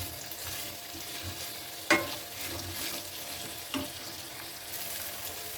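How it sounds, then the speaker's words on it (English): Bell pepper, also called capsicum, sautéing in a pan for chicken: a soft, steady sizzle with two distinct scraping stirs, fairly quiet and close. "our bell pepper, we also call it as the capsicum, and saute this for just a minute."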